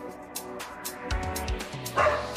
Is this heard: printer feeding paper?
no